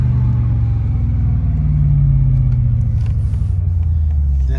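A Mercedes CLK55 with a limp-mode fault revs hard and holds a loud, close, sustained engine roar, the pitch rising slightly and then easing back with no voices over it.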